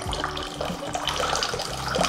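Fruit juice pours and splashes from the tap of a watermelon fountain filled with mixed fruit, a steady close gurgling stream with low rumbling underneath and no speech.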